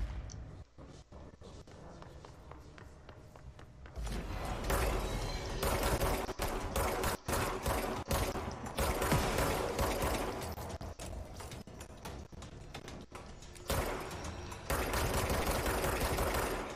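Sustained, loud weapon fire in the action game Control, with rapid repeated shots and bursts that build into a dense barrage, mixed with mechanical clatter.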